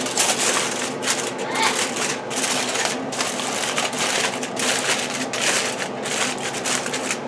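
Food being wrapped up before going into the oven, probably in foil, gives continuous crinkling and crushing rustles close to the microphone, irregular and busy throughout with no clear talk.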